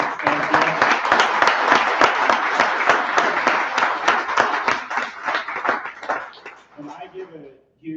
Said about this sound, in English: And I give a huge round of applause to Karen for being crazy enough to volunteer